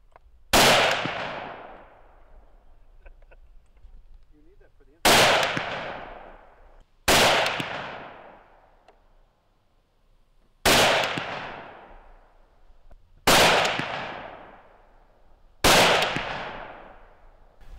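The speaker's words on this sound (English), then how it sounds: "He's going to be shooting a 308." Six loud .308 rifle shots fired into a bullet containment system, each a sharp report with a long decaying tail, spaced a few seconds apart with no talking.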